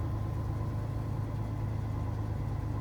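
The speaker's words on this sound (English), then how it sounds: "let you guys just listen to the truck" A 1982 Ford F150 pickup with a 4.9 inline-six and stock exhaust idles steadily with a low, even rumble, muffled as heard from inside the cab, no voices.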